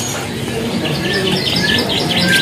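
Caged songbirds, including black-headed munias, chirp and tweet in busy, overlapping bursts at a bird market kiosk, fairly loud and continuous over a murmur of background noise.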